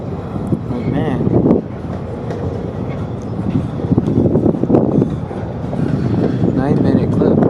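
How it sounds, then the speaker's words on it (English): A long container train crawls past at a snail's pace, a steady rumbling roar with rhythmic clickety-clack of wheels and gusts of wind noise on the microphone, loud and close throughout. "this container train that's crawling like a snail"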